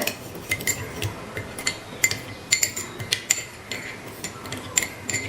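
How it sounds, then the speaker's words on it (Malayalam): A spoon clinks and scrapes against a container while mixing homemade hair oil, giving irregular sharp metallic taps over a soft stirring background, close and with no talk. "ഇത് നന്നായിട്ട് അങ്ങ് മിക്സ് ചെയ്യണം. എണ്ണ നല്ല രീതിയിൽ അങ്ങ് മിക്സ് ആക്കി എടുക്കുക."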